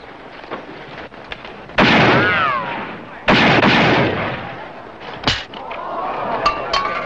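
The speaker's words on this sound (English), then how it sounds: "When he tosses it, you draw and fire." Revolver shots ring out in a Western-style shooting contest, two loud sharp cracks with long ringing ricochet tails about a second and a half apart, followed by fainter clatter and smaller bangs.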